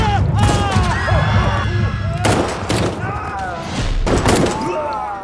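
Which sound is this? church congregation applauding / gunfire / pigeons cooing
gunfire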